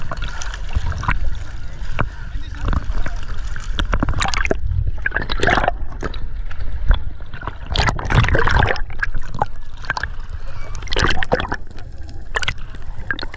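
Strong sea waves crash and churn loudly nearby at Oslob, Cebu, with splashing surges rising and falling continuously, and scattered voices faint beneath the water noise.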